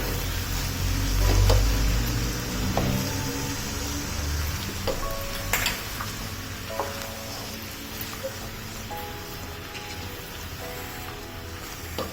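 Mixed vegetables for Bhogi bhaji, dusted with ground roasted sesame, sizzle in a pan while a spoon stirs and scrapes through them in intermittent strokes, steady and close, with no talking.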